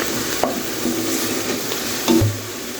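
Whole spices (cardamom, cinnamon stick, black peppercorns and cloves) sizzle in hot oil in a pan, with a soft steady hiss and a few scraping stirs.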